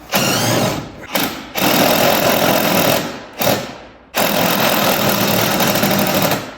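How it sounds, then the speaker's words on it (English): A power drill whirs in loud sustained bursts during a garage snowmobile rebuild, starting and stopping several times with short pauses between runs, close up and alone. "You know what I should do? Freaking drill."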